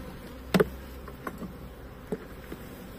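Honeybees at a small queenless split colony give a faint, low hum, broken by a few brief louder buzzes as single bees pass close.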